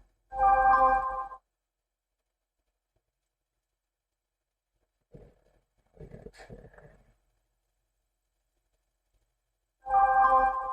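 Phone notification tones ring out twice, a bright chime at the start and again at the end, loud and close, with brief muffled speech and small sounds in the quiet gap between them.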